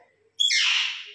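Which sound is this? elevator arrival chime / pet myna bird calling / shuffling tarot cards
pet myna bird calling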